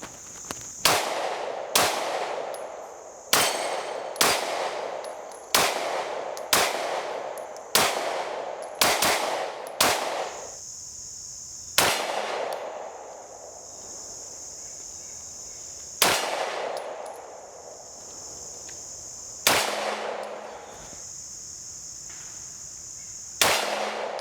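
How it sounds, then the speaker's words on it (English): Glock 19 Gen 5 pistol firing at a range: sharp, loud gunshots, a rapid run of about ten evenly spaced shots followed by several slower single shots, each with a ringing tail. "We're gonna run our Glock 19 Gen 5 just to get the feel and the comparison."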